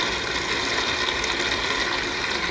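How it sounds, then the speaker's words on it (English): A white noise machine plays its rain setting, a dense, even, continuous hiss of falling rain at steady level with no pauses or voices. "This is rain."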